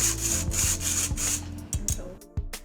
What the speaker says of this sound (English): we're just going to whisk that through